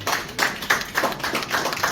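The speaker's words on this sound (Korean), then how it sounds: "다시 한번 최우영 구미 씨를 국회의원 예비후보에 뜨거운 격려의 박수를 부탁드립니다" Applause for Choi Woo-young, a People Power Party preliminary candidate for Gumi-eul, at a press conference in the Samsung Building. Claps come in several soft bursts, fairly close and moderately loud, with no talk over them.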